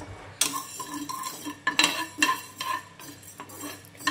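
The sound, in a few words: lightly dry-roasting fenugreek seeds in a pan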